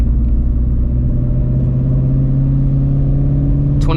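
A manual transmission car engine holds about 2,500 RPM in second gear while driving, a loud, steady low drone with a faint click near the end.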